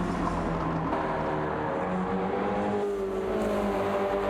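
Race cars roar steadily around a corner at Watkins Glen in a racing video game, several engines layered in a continuous loud drone with shifting pitch as they pass.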